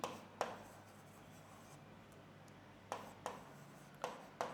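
Pen strokes writing an English letter by hand on paper, a few short soft scratches and taps spaced irregularly, close and quiet against a faint hum.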